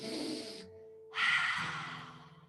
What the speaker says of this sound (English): Coming into lion's breath. So that'll be a big inhale, squeeze the face, stick out the tongue.